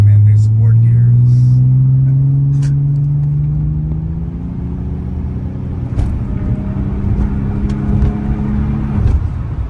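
A 1990 Nissan 300ZX twin turbo with T-tops accelerates hard through its gears, the engine note climbing, dropping at a shift, then climbing again, loud and close from inside the car.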